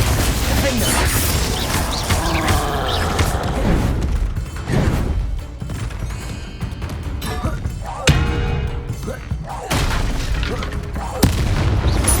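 In the video game Hogwarts Legacy, Confringo and Glacius spells go off as booming blasts and crackling impacts in a dense, loud sequence of combat, with bursts and thuds close together over a constant rumble of battle.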